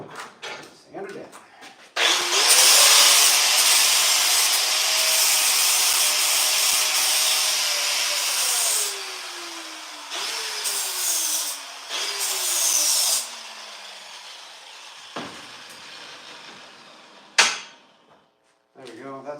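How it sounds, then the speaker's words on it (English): A power tool sands wood in one long whining run whose pitch drops in several steps as it bears down, then winds off, followed by a few sharp knocks and handling sounds. "sand it down"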